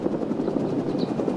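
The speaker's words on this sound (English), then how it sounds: "Helicopter comes back." Helicopter in a video game tactical mission, a loud, steady rotor thump with rapid rhythmic blade chopping throughout, close and continuous over a brief stretch, with no talk.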